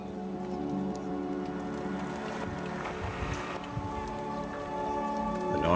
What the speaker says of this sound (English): The noises you hear are our buddy boat.